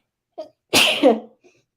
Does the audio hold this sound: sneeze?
yes